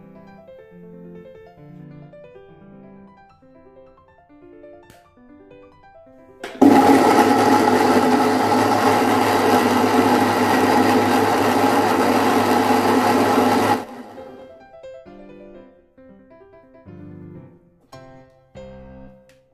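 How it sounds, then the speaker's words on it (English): A Pyramid 4 in 1 blender blending washed pepper: a loud, steady motor whine starts abruptly and runs for about seven seconds, then cuts off, with quieter background sound before and after. "So let's just get to blend this pepper"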